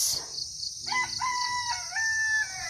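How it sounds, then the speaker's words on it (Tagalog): A rooster crows on a farm, one long cock-a-doodle-doo with a rising, wavering call that stays loud and close, following a short burst of noise. "So tingnan natin yung tumitilaok."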